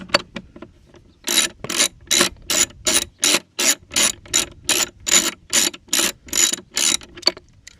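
A 3/8 ratchet on an extension loosens a nut at the battery of a 1995 Mercedes-Benz E320 (W124), giving a loud, close, steady run of about fifteen clicking strokes in an even rhythm.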